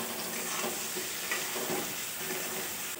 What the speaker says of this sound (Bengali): 5 মিনিট মতো সবজিটা ভালো করে কষিয়ে নেব